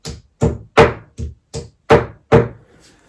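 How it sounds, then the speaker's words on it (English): A series of seven sharp knocking thuds, a hammer driving wall plugs into a hard wall, spaced roughly evenly and close by, with brief silence between strikes. "a couple of raw plugs in, which I'll finish off with a hammer."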